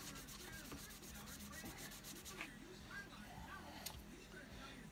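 Steel wool folded tight is rubbed over browned rifle steel on a Lyman Great Plains muzzleloader, giving a steady close scratchy rubbing that runs throughout with a few brief louder strokes, under faint background talk.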